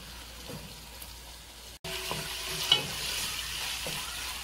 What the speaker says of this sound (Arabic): طبعا عم نقلي اللحمة لتصير منيح اللحمة